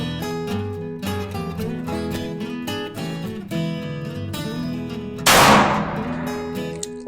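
A single loud, sharp gunshot from a Thompson Contender Super 14 pistol chambered in .30-30 and loaded with Varget powder, cracking out over steady background music and decaying quickly.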